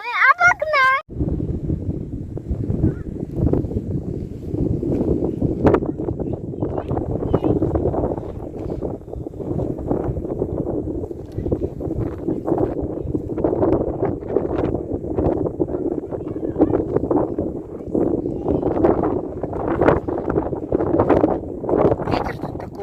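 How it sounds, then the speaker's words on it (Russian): Strong wind on Mount Mithridat roars and buffets the microphone in continuous gusts, with people talking through it. "Ветер тут такой, что вообще сносит просто."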